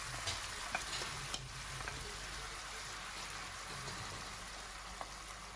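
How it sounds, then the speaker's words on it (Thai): Pork pieces fry in a pan with tomato sauce, a continuous soft sizzle broken by a few light scrapes and taps of stirring, fairly quiet and without speech. "พอเนื้อหมูเหลืองหรือหอมเราก็ใส่ซอสมะเขือเทศลงไปค่ะ"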